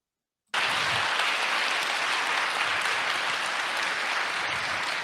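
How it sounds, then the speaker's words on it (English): Audience at a church campaign stop in Woodstock, Georgia, bursts into loud, sustained clapping that starts abruptly after a brief silence and holds steady to the end. "What y'all clapping for, people?"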